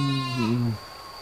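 A single close, loud sheep bleat, wavering and lasting under a second, in a modern sheep farm pen where pregnant ewes are kept, followed by quiet.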